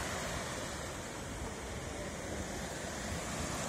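Ocean surf washing onto the shore just outside Halifax on a Saturday morning, a steady, loud, unbroken roar of breaking water mixed with wind, with no talking.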